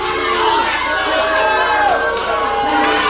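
A wrestling arena crowd reacts as Jeff Jarrett struts to the ring, loud massed shouting and jeering with piercing individual yells over a dense roar, all close and unbroken.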